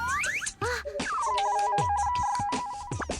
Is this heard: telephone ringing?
yes